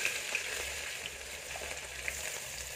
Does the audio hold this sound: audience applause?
no